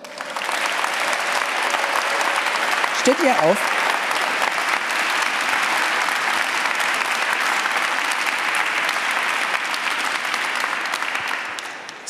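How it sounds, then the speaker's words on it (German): Strong, sustained audience applause in a museum hall at an Antiquity Slam evening, a dense even roar of clapping lasting many seconds, with a brief spoken question heard near the start. "Begrüßt mit einem kräftigen Applaus nochmal Antje Kose und Petra Wortke."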